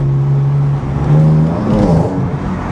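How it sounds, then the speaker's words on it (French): BMW M4 accelerating hard with its tyres spinning, a loud sustained engine roar that climbs in pitch, close and steady with no talk over it. "Enfin, attention parce que ça patine un peu."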